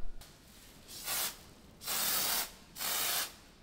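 A spray foam gun applies insulation foam inside a trailer in three separate hissing bursts, each about half a second long and steady, with quiet pauses between and no talk.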